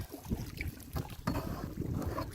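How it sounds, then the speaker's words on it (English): Canoe paddling on a backcountry lake, with soft water strokes and hull splashes mixed into gusty wind and microphone rumble, close and continuous. "this is so easy paddling compared to what I was paddling yesterday"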